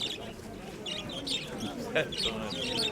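Pigeons cooing and chirping at an outdoor fair in Dnipro, soft and close, with people talking throughout.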